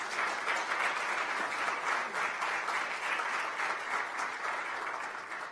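A crowd at a women's football gathering applauds without a break, a thick, even roar of many hands clapping that holds steady for several seconds with no voices over it.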